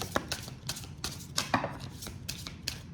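Soft, quick papery slaps of tarot cards being shuffled repeat in a steady rhythm, about three per second, close by and quiet.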